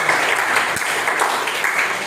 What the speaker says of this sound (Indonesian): Nah, baik, silakan tepuk tangan.